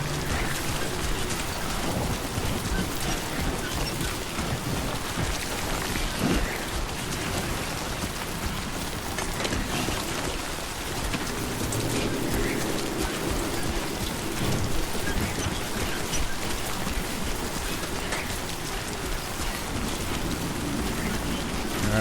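Timefall rain in the Death Stranding 2 video game, a steady dense hiss of rainfall with low rumbling underneath, constant throughout and without talk.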